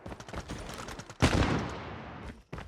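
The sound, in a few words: gunfire in video game Call of Duty Mobile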